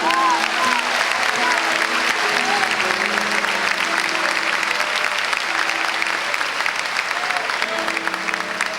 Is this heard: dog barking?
no